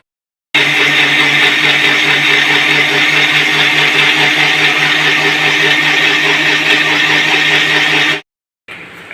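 An electric blender grinding mint leaves, coriander leaves and green chillies into a paste, with a loud steady whirring motor that runs for about eight seconds, then stops abruptly and gives a short restart.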